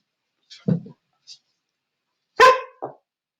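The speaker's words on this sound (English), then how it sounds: "Just heard my little puppy Athena give a little bark here." A small puppy lets out a couple of short, high yips, then a sharper bark and a brief follow-up yelp, close and otherwise quiet.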